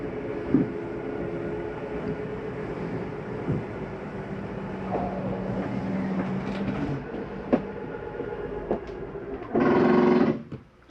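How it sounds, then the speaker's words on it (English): Slide-out motor mechanism on a 2022 Jayco Eagle 284BHOK RV retracting, a steady low mechanical hum with scattered clicks and knocks, ending in a louder burst of grinding strain as the slide reaches fully in. "That is the slide mechanism saying, I'm all the way in."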